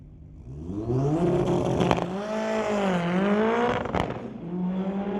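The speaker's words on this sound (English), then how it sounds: "Kevin Kaiser takes the Honda K20 Turbo Beetle to the line." A Honda K20 turbo-swapped Volkswagen Beetle launches at a Mission Raceway Park street-legal drag night, its engine revving and climbing in pitch with a couple of sharp shift-like cracks, loud and close, no talk.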